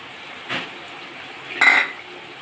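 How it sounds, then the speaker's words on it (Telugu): A spoon stirs chicken curry in a cooking pot, giving two brief scraping clinks of metal against metal over a steady low background hiss. "బాగా ఉడికింది కదా చికెన్ అంత వేసి కలుపుకొని"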